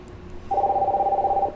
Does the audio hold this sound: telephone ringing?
yes